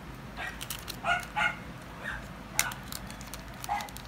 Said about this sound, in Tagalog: Sorry sa ingay sa aso.